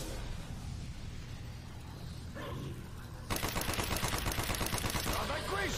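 In zombies mode of Call of Duty: Black Ops, rapid automatic gunfire breaks out partway through, loud and sustained after quieter background game noise.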